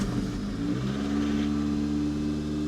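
A classic Toyota car engine running at a fast idle of just over 2,000 rpm, heard up close as a steady, even drone with no breaks.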